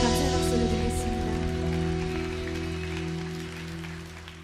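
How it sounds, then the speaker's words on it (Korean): Church congregation applauding during a Sunday worship service in Suwon, steady clapping over a lingering sustained organ or keyboard chord that gradually fades. "주님께 감사의 박수를 드리겠습니다."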